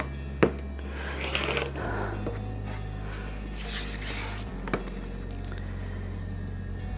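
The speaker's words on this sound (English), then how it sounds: "Cut down the middle. Cut corner to corner." Scissors or a rotary cutter slicing quilt fabric squares corner to corner, a few crisp cuts and rustles close by over a low steady hum, with a sharp snip near the start and another later.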